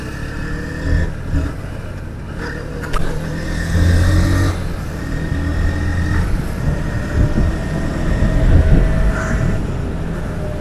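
Several motorcycles on a Sunday group ride rumble and rev along a road, a steady near engine drone with repeated throttle swells and passing vehicle noise throughout, no talking.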